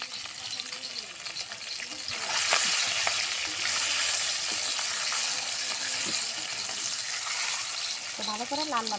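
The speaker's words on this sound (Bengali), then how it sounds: "তো ভালো করে লাল লাল করে ভেজে নেব" Eggs, cut and scored, fry in a pan with a steady loud sizzle that swells after a couple of seconds and holds, with faint scraping and clinks of a utensil; a brief voice murmurs near the end.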